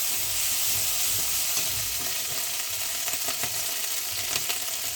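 Ginger garlic paste hits hot oil with frying onions in a pan for bitter gourd dal, giving a steady close sizzle and bubbling hiss with a few soft stirring clinks throughout.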